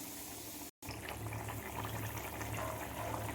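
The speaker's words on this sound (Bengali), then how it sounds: "দেখুন আমার ঝোলটা ফুটে গেছে।" Fish curry broth bubbling at a rolling boil in a pot, a steady close wash of gurgling and popping that runs on after a brief cut, with no talking.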